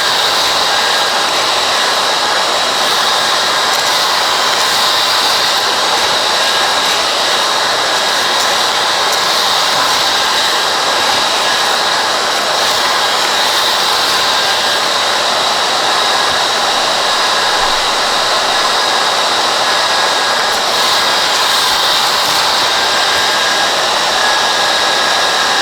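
Kaleido M2 coffee roaster's cooling fan pulls air through freshly roasted beans, a loud, steady whooshing roar that holds unbroken throughout with no talk.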